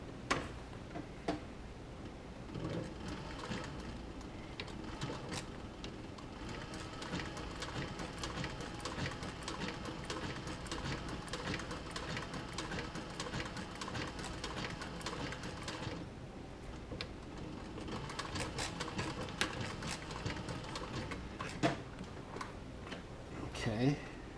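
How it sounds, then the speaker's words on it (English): A sewing machine stitches a leather camera bag with a rapid, steady mechanical ticking that runs nearly continuously, pausing briefly midway, close and moderately loud. "Let me go ahead and sew this"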